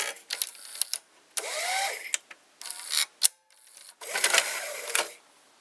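Cassette loading mechanism of an MTC MCR 215R VCR running in several bursts: whirring motor and worm-gear drive with ratcheting clicks and rising mechanical whines, separated by brief pauses and sharp clunks, close and clear.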